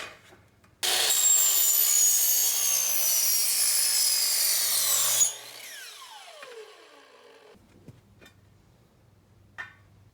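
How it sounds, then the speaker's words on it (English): A chop saw cuts through a metal shower door bottom curb, giving a loud, high screaming cut of several seconds that stops abruptly and winds down, followed by faint handling sounds. "Cut it using a chop saw."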